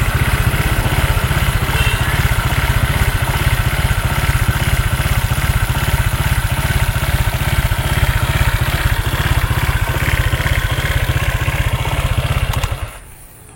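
A Honda Vario motorcycle with a Juken 5+ exhaust idles with a loud, close, rumbling engine note whose firing is slightly uneven and broken, running steadily before it drops away at the very end.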